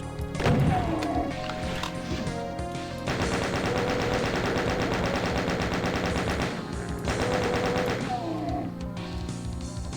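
Rapid gunfire from a Doom map called Arrival, with chaingunners and imps under fire: dense, sustained bursts of shots filling most of the stretch, loud and close, briefly easing near the start and end over a game music bed.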